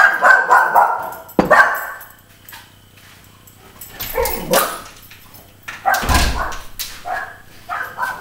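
Neighbours' dogs bark and yip in overlapping bursts, several dogs at once, fairly close, with quieter gaps between flurries in an outdoor Adriatic kitchen setting.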